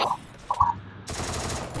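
Sniper rifle fire in the multiplayer game Free Fire: a couple of short sharp cracks early on, then a sustained burst of gunfire and noise in the second half, fairly loud.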